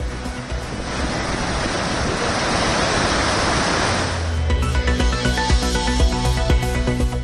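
Floodwater from the swollen Kodaiyar river crashes over Thirparappu waterfall in a loud, dense, continuous roar for about four seconds before music takes over the background.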